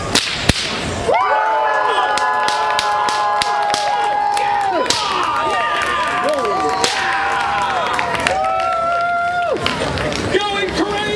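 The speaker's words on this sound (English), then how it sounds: "2 cracks, twice the applause, and maybe we go crazy." Bullwhip cracks snap sharply at a live stage show, followed by loud crowd cheering and applause with a performer talking over the noise.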